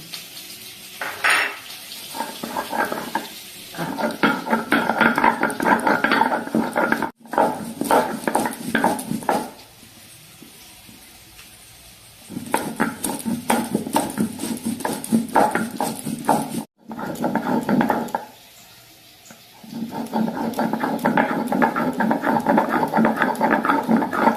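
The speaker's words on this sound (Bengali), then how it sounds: "মশলাটাকে একটু বেটে নিই।" Spice paste for a prawn fritter curry is ground by hand on a grinding stone. Rhythmic scraping and rubbing strokes come in steady bursts, with brief pauses between runs, close up and fairly loud.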